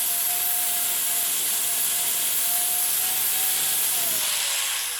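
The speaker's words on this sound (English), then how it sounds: "this is where I finish up and sand it down" Steady, continuous sanding of a heavy wooden wagon wheel in a wheelwright's shop, a loud broadband rasping hiss with a faint machine whine that dips briefly near the end.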